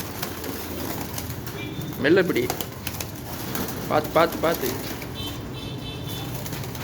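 Pigeons in a coop give low coos and a few brief flurries of wing flaps amid rustling and background noise, while a person speaks briefly nearby.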